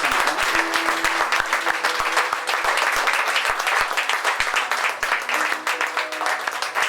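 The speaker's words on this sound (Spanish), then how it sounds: "¿Se le puede un fuerte aplauso al Señor que está acá?" A church congregation at a Sunday service applauds steadily, a thick, even wash of many hands clapping for several seconds with a faint murmur underneath.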